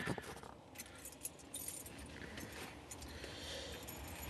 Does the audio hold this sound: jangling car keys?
yes